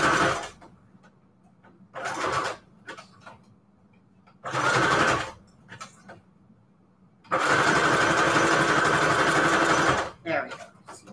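A sewing machine stitches around a Christmas jar embellishment, close and loud, running in short bursts of about half a second to a second with quiet pauses between, then in one steady run of about three seconds.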